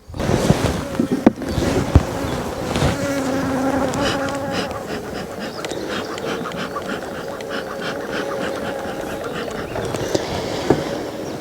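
Honeybees buzzing around an open hive while queen cells are checked during artificial swarm rearing: a dense, close, continuous hum with individual bees droning past, and a few sharp knocks early on.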